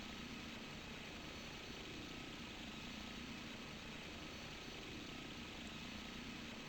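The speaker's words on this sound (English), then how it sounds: "Just keep the engine power on maximum." Aircraft engine held at maximum power in a flight simulator game, a steady loud drone with a constant low hum throughout, no talk.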